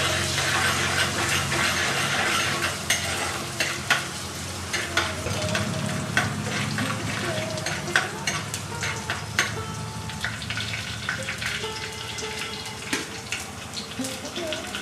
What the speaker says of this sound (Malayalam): അതിലേക്ക് ഇഞ്ചിയും വെളുത്തുള്ളിയും കൂടെ ചതച്ചൊന്ന് ഇട്ട് കൊടുക്കാം